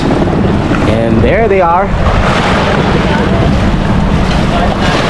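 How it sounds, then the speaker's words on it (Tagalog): Strong wind at Talisayen Cove in Pundaquit roars and buffets the microphone nonstop, with water and fishing boat noise underneath and someone briefly speaking early on. "Sobrang lakas ng hangin, sobra."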